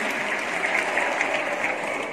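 Audience applauding a team at a group competition results announcement, a brief burst of dense, even hand clapping from a crowd.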